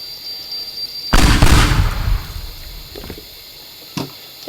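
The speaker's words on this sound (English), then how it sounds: "Just keep exploding." Explosion in Minecraft: a sudden loud burst that rolls off over about a second, then quieter crackles and a smaller pop, with no speech over it.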